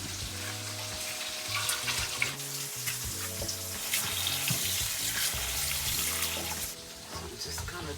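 Sliced canned green beans draining in a kitchen sink with the tap running, a steady rush and splash of water with clatter close by, continuous throughout.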